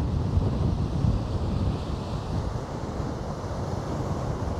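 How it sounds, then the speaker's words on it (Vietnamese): Large ocean waves three to four metres high pound a beach beside a river mouth while strong gale gusts buffet the microphone, a loud continuous roar and rumble with no voices. "sóng rất là lớn, cao tầm 3 đến 4 mét, và gió giật cấp 8, cấp 9"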